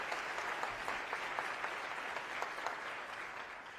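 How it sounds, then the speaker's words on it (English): A continuous burst of audience applause fills the hall at the State of Milwaukee County address on Milwaukee's lakefront, dense and even, with a few sharper claps standing out. "Can we give her another round of applause for doing a fantastic job?"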